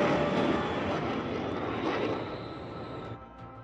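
A fighter jet flying fast on afterburner, heard as a dense, steady roaring rush that fades slightly toward the end, with no talk over it.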